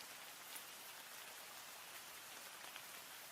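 Steady rain falls continuously, a soft, even hiss of drops on surfaces with no breaks or voices, constant and fairly quiet throughout.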